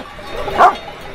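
A single short bark from a livestock guard dog working around a flock of sheep rises briefly over a steady outdoor background.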